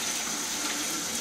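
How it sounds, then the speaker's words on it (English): Tap water runs steadily over legumes, beans and pulses being rinsed, a continuous close gushing hiss with no pauses, heard alone. "So we'll just rinse those quite a bit."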